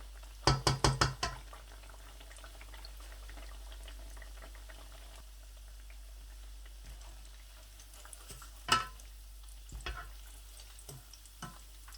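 Chicken and cheese cutlets fry in a pan with a steady low sizzle throughout, opened by a quick cluster of sharp clatters and broken later by a few scattered clinks and taps.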